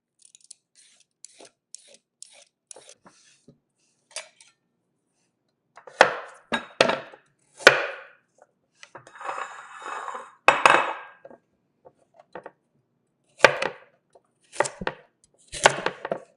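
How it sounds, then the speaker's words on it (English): Carrots are chopped into two-inch chunks with a knife on a board, a run of sharp, close knocks in irregular bursts separated by short pauses, with faint clinks of kitchenware between cuts. "And then with the carrots, we're gonna peel it first and then cut them into a 2-inch chunks."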